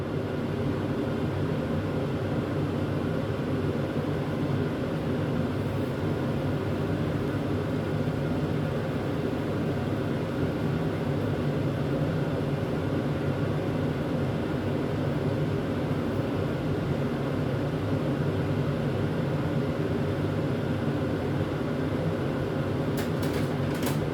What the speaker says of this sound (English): I'm going to have to put the overhead fan on